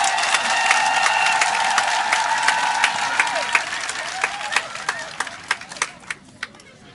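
Women of Sikensi clap and cheer for themselves at a public gathering, a dense wash of applause with voices that thins toward the end into scattered, separate hand claps.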